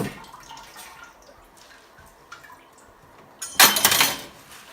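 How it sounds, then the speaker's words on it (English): Washed fall garden greens being lifted out of a basin and drained, water splashing and pouring briefly at close range near the end after a quiet stretch of faint drips and handling noise. "just pull my greens out of that water, drain off the little bit of water that's in there"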